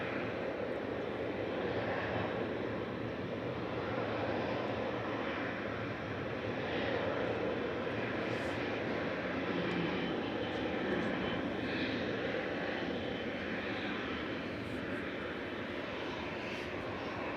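An Etihad airliner's jet engines rumble at Manchester Airport, a low, faint, steady roar that carries on evenly without clear peaks.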